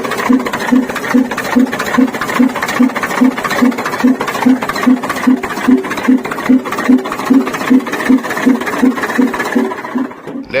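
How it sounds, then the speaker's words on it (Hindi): A Nissan car engine runs close by with a loud, even, rhythmic pulsing that holds steady for about ten seconds. "आपने गाड़ी की वॉइस सुन ली, वॉइस मतलब इंजन स्टार्ट है"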